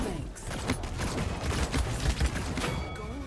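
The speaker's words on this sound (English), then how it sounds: "This gun is just popping off" Rapid, dense gunfire from a weapon in the Paladins video game, played as Androxus, with close, loud shots overlapping continuously for the whole stretch.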